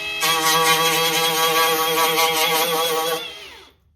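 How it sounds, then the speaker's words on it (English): A wire wheel grinds rust and paint off the metal body of a classic car, a loud, steady, harsh whine held for about three seconds before spinning down and stopping. "I'm going to blast it with a wire wheel"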